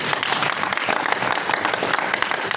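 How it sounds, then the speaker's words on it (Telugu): Audience at a church gathering claps hard, a dense continuous applause filling the room, steady and fairly distant. "చప్పట్లు కొట్టండి గట్టిగా."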